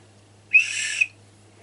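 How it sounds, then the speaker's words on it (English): Old whistle blown once, a single shrill, breathy tone held for about half a second with a sharp onset, loud and close over a faint low hum. "This is the old whistles. Can you imagine that? Yeah, and it still does make noise."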